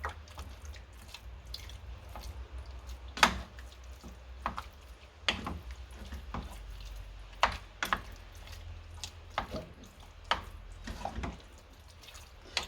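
Beef mince with a cup of water is broken up in a pan, soft wet scraping and tapping of the utensil coming in irregular bursts over a low background hum.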